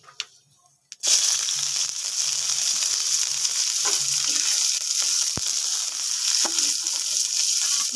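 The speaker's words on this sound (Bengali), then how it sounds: "ভালো করে একটু ভেজে নেব" After a short quiet moment, chopped onion and five-spice hit hot oil, bursting into a loud, sustained sizzle with faint stirring scrapes and a few sharp pops, no voices.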